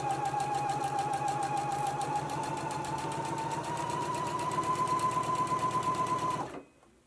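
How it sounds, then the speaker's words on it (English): A sewing machine stitches a hem band onto a bodice at a 5/8 inch seam allowance, a steady rapid close-up whir with a rhythmic needle pulse that stops abruptly near the end. "let's go ahead and stitch it at a 5/8 of an inch seam allowance"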